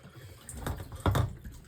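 Soapy water poured in two short splashes onto a sharpening stone for knife sharpening, soft and close in a quiet room.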